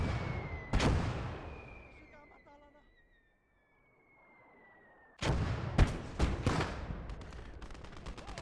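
Machine gun fire in a WWII real-time strategy video game: a single shot early, a falling whistle, then rapid loud bursts of gunfire over the last few seconds.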